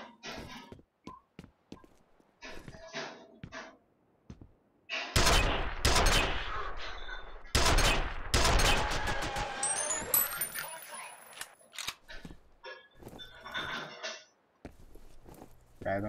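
Gunfire from the first-person shooter F.E.A.R. crackles in loud, dense bursts between quieter stretches of footsteps and clicks, with a player's voice coming in now and then.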